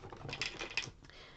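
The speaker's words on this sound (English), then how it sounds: "snip the three little tags that are holding it into place" Scissors carefully snip three small tags holding a bauble ornament in place during card making, giving a quick run of close, crisp cuts with no talking.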